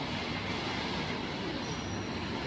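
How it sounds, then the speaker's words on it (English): Train ride near 8th and Market heading across the river toward Camden, New Jersey, with a steady, loud rumble of the railcar rolling along the tracks, unbroken and close, with no voices. "Here we can see I am jumping on the train at 8th and Market"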